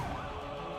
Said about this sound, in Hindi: तेजी से सायरन बजाती एम्बुलेंस की आवाज इस पूरे इलाके को दहशत में डालने के लिए काफी है